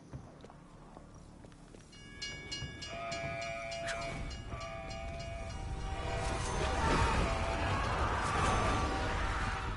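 A train in Call of Duty Cold War Zombies, on the Mauer der Toten map, approaches with a rumbling, clattering roar and metallic tones that build steadily louder toward the end.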